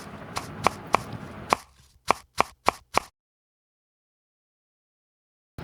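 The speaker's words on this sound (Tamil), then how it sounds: "ஒரு பெரிய வெங்காயம் எடுத்து நல்லா சின்னதாக கட் பண்ணிக்கலாம்." A knife finely chops a big onion on a board in about nine crisp, close strikes, some in quick runs, before the sound stops into silence.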